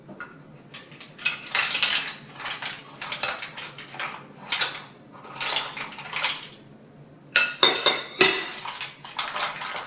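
Cooked mussels tumble back into a pan holding their strained cooking broth for a linguine dish, with shells clattering and clinking against the metal in uneven bursts separated by short pauses.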